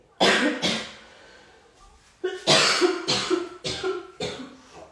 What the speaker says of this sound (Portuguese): A tosse tá do nada.